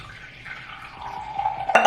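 Apple cider vinegar poured into a homemade curly hair mask mixture, a soft liquid trickle that swells into a brief louder splash and fizz at the end.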